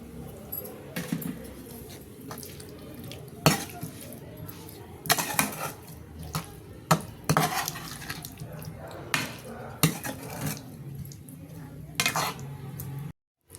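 A spoon clinks and scrapes against a bowl as amla pickle is mixed with lemon juice, making irregular sharp taps over a soft wet background, with a voice talking at times.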